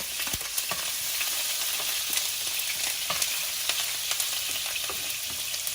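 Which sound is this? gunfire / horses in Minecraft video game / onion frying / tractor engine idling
onion frying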